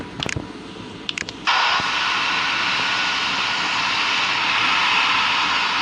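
A steady aircraft engine roar in the PTS video game, starting after a few short bursts and then holding loud and continuous for several seconds with no talk.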